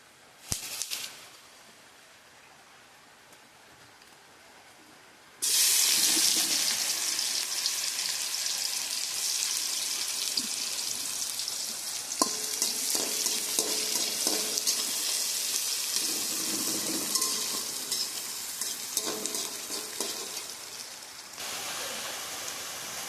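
Bay leaf, cinnamon, cardamom and cloves hit hot oil with onions for a meat and rice dish, setting off a loud, steady sizzle after a quiet start, with scattered crackles and stirring scrapes that ease off near the end.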